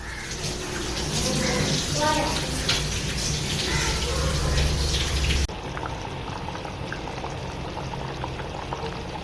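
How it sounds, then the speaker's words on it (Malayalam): Ground roasted coconut masala is poured into a pot of Kerala-style river eel curry, making a loud, close, steady liquid gush and bubbling that stops suddenly partway through, leaving quieter background noise. "ഇനി വറുത്തരച്ച് വെച്ചത് ഇതിലോട്ട് ഒഴിച്ചു കൊടുക്കാം."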